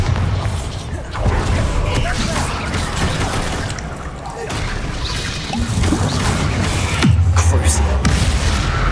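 Bombarda spell explosions in the video game Hogwarts Legacy, dense crashing booms and thuds layered with other spell effects, continuous and loud with a heavy low rumble throughout.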